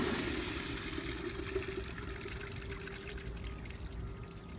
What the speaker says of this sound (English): we're going to drain the system of the water pressure